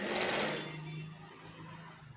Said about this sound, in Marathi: मी कमरेला शिलाई टाकून राहिली.